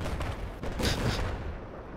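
Tank cannon fire in Battlefield 4, heavy booming blasts layered with continuous battlefield gunfire, loud and dense throughout with a stronger burst near the middle.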